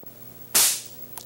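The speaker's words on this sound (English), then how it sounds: "And firing the spark again." An electric spark pulse fired inside an acoustic scale model, a single sharp, loud crack over a low hum, followed moments later by a fainter short snap.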